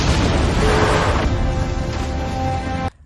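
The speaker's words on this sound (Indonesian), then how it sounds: "menekan tombol pemicu bom hingga membuat tabung gas di belakang mobil meledak" A gas cylinder behind a car explodes in a film scene, releasing a loud, sustained roaring blast that fills the clip and then cuts off abruptly near the end.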